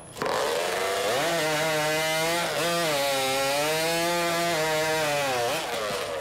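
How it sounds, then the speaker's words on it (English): A 30-kilogram hot saw driven by a 300cc snowmobile engine screams through timber at a rural games contest, one continuous loud, high-revving whine that wavers in pitch as the blade bites. "The final challenge features a 30-kilogram chainsaw powered by a 300cc snowmobile engine."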